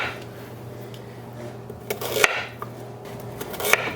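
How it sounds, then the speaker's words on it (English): Ginger being sliced with a knife on a cutting board, a few light taps and clicks of the blade on the board over a low background hum, with a couple of sharper knocks near the end. "And we are going to slice our ginger."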